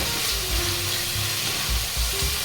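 Spices frying in oil in a pan for a chicken curry, a steady close hiss with soft low stirring bumps and scrapes recurring through, no talking.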